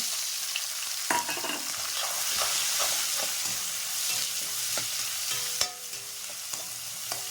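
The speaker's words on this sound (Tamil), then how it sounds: "வெங்காயம் போட்டு நல்லா வதக்கலாங்க." Onions sautéing in a tempering for valli kizhangu upma crackle and sizzle steadily, with repeated spoon scrapes and knocks against the pan, including one sharper clatter near the end.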